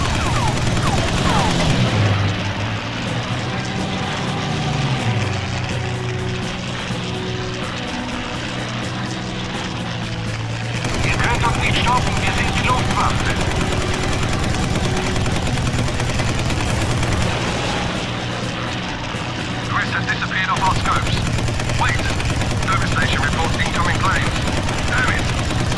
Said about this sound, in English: Shoot down the enemy BF-109 fighter.